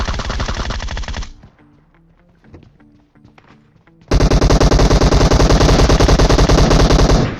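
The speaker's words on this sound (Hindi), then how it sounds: "लेकिन तभी पीछे से फायरिंग आती है" Loud, rapid automatic gunfire in PUBG Mobile gameplay bursts close by, falls away to quieter background sounds for a few seconds, then resumes as a dense sustained volley.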